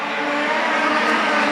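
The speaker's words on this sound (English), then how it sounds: "these cars fly around him into turn number 3" Production sedan race cars scream past at speed heading into a corner, a loud, dense roar of several engines blending together with no gap.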